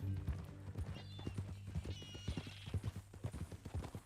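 Horse hooves clip-clopping at a steady walking rhythm in the Red Dead Redemption 2 video game, close and continuous, with a brief whinny and faint voices underneath.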